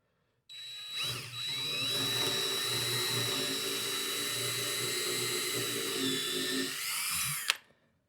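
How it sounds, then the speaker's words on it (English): A power drill bores a hole into a wooden workbench top, one long steady whine for about seven seconds, close and fairly loud, with no talking. "drill my hole. I gotta make sure I don't drill through my top"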